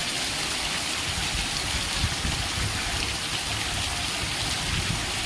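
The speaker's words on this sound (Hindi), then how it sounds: "बड़ा मस्त लगुच वर्षा हो मस्त लगुच" Heavy rain falling at night, a steady, dense hiss of drops with no breaks and no voices, close and continuous throughout.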